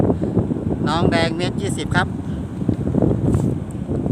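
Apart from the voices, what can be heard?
wind blowing while flying kites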